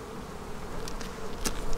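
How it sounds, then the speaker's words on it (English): Honey bees buzz around a hive in a soft, continuous drone, with a few individual bees whining louder as they pass near, and no voices. "Okay, we do have quite a few bees up here."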